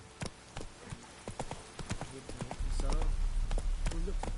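Roach, a horse in The Witcher 3 video game, gallops with quick, crisp clip-clop hoofbeats that build into a louder, denser run, while a voice talks over the hooves.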